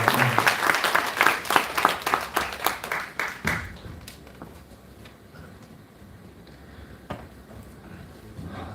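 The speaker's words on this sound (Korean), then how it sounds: "박수 부탁드리겠습니다" An assembly at a Korean high school's 47th anniversary ceremony claps in a strong, evenly paced rhythm for a few seconds, then the applause dies away into room murmur with a couple of stray claps.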